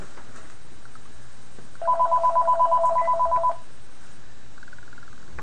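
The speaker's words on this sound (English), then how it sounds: "Oh, we have a phone call." Telephone ringing for an incoming call on a talk show: a short burst of rapid electronic warbling rings, moderately loud over a soft steady background hiss.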